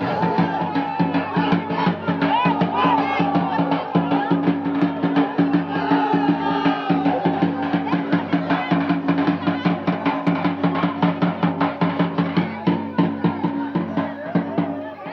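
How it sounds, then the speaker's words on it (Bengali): A dense crowd of devotees gathered on a riverbank for a Durga idol immersion cheers and shouts in a loud, continuous roar, with rhythmic clapping or drumming pulses throughout. "অনেকে উল্লাস করছেন, অনেকেই বলছে যে দেবী দুর্গার জয়।"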